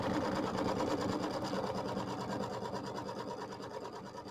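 An embroidery machine stitching a tack-down step on a quilt block, a fast, steady, even mechanical whirring rattle, loud and close, running alone with no voices.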